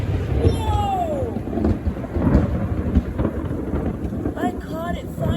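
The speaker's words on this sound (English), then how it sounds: "This storm did not die down at all." Thunder in a late summer thunderstorm in Columbus: deep rolling rumbles swelling and fading over steady rain, fairly loud and close, with faint distant voices and a brief whistling tone near the start.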